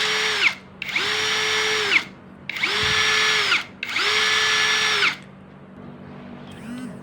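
A CANLIDI brushless cordless drill runs in four steady bursts of about a second each, each spinning up to a high whine and winding down, with brief pauses between and a faint mechanical tail at the end.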